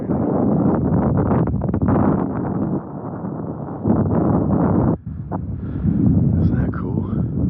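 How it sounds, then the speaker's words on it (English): Gusty wind buffets the microphone outdoors at an old mine site near a parked Jeep, with loud, uneven roaring that surges and dips, while a person talks over it. "A little windy"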